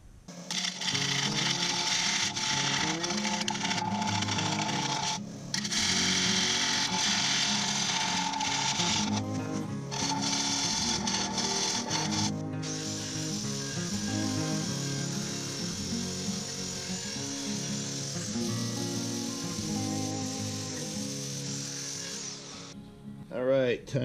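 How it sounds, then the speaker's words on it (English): A woodturned bowl made with spent 9mm shell casings is sanded on a spinning lathe, giving a loud continuous whirring hum with rubbing texture that shifts in pitch and cuts out briefly a few times. "and then I can start sanding it"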